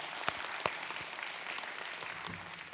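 An audience at a meditation forum applauds together, a dense, even patter of many hands with a few sharper individual claps standing out near the start.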